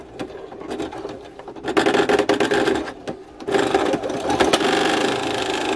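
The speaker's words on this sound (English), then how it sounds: "I don't know if my machine can sew through it." A sewing machine labours through many stacked layers of leather for a jacket, its motor whirring in two loud sustained bursts separated by a brief pause, close and alone with no talk.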